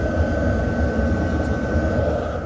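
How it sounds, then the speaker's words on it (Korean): A D2 diesel air heater runs inside a camper van in freezing winter weather, giving a loud, steady whooshing roar with a constant low rumble and an even hum, no voices over it. "D2 보일러 틀어놓은 거고요."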